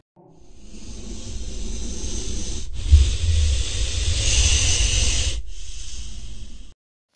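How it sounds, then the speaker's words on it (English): A snake hisses in a long, steady, breathy stream, continuous for several seconds with two brief breaks, fairly loud and close. "Is just some sort of snake."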